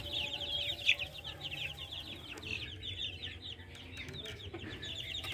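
Silkie chickens and their chicks cluck and peep softly around a farm yard, their small high calls continuing steadily at a moderate distance.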